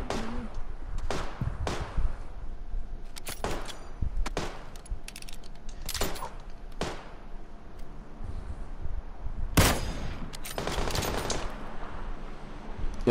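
Repeated gunfire in a PUBG match: bursts of shots, some near and sharp, others more distant, crack out at irregular intervals over a steady rustling outdoor background.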